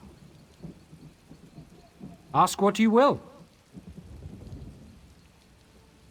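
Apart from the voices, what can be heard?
rain and thunderstorm in Elder Scrolls Online video game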